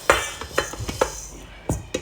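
Fried lentils for khichuri are tipped into a metal cooking pot with a utensil, producing a handful of close, light clinks and scrapes against the pot over soft kitchen background noise.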